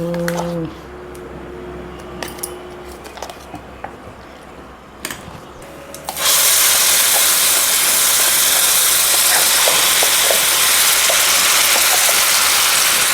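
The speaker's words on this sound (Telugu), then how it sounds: "ఇప్పుడు పోపు అయితే వేస్తున్నాడు చూడండి" Tempering spices hit hot oil for gongura chutney with a sudden loud, steady sizzle that continues without a break, following quieter clattering sounds.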